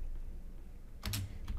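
A few quick keystrokes on a computer keyboard while a query is entered in Power BI software, close and fairly loud after a quiet stretch of low room hum, with a short burst of clicks followed by one more tap.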